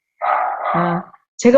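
A pet dog barks from a house backing onto a golf course, one or two short sharp barks close by, mixed with someone speaking.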